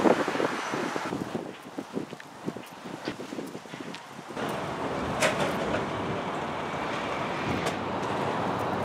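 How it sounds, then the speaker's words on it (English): Strong wind buffets the microphone by the Glasgow port, roaring and gusting with rustling, shifting from choppy bursts to a steady loud blast with distant traffic-like rumble. "the wind's blowing in the wrong direction"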